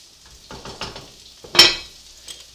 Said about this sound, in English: Let's check our spaghetti sauce and stir it